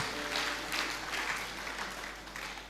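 Congregation clapping during a Christmas church sermon, a steady, even wash of applause from many hands, moderately distant and fairly quiet, with no voices over it.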